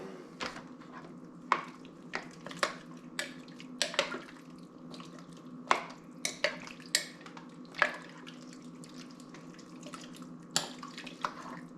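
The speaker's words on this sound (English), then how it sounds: "Take a nice big chunk. Just dump her in. Give it a quick stir." A gravy ladle stirs chunks of pork stew in a pot, giving a run of scattered wet clinks and scrapes over a steady low hum, moderately close, with no talking.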